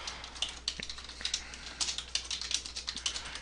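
Quick, steady typing on a computer keyboard, a dense run of close, light key clicks with a faint hum underneath and no voice.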